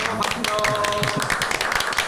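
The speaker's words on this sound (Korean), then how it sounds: "박수로 모셔볼까요?" Applause from a studio audience welcoming two company guests onto a Korean talk show, a steady patter of hand claps mixed with a voice speaking over it.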